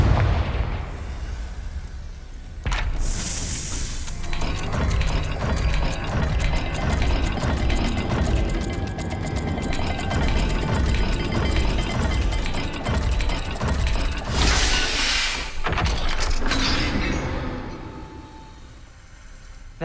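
A rotating dial puzzle mechanism in Hogwarts Legacy grinds and ratchets through a sustained stretch, with sharp bursts at the start and end and no voices.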